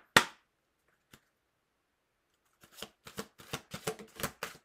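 Tarot cards being handled during a reading: one sharp snap of a card, a lone soft tap, then a quick series of crisp shuffling flicks and slaps close by, with no talking.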